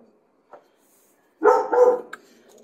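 Dogs bark in a short burst of several overlapping woofs, fairly close and loud, after a single faint yip, in a home kitchen where mushroom soup is being made.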